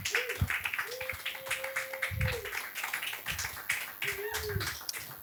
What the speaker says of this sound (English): Keep clapping. Keep it going.